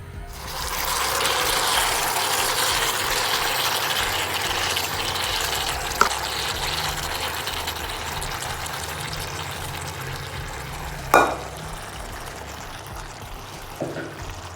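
Chicken manchurian hitting a buttered sizzler plate, a continuous loud hissing sizzle that slowly fades, broken by a few sharp metallic clinks, no talk.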